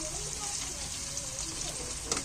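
Sliced bitter gourd (kakarakaya) roasting in oil in a pan, a steady soft sizzle and crackle running throughout, faint and even.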